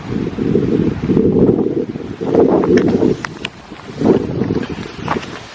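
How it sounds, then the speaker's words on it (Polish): Steady mountain wind near Szrenica, Szklarska Poręba, buffets the microphone in loud rumbling gusts that swell and ease, with a few faint higher sounds scattered over the top. "taki wiatr się rusza"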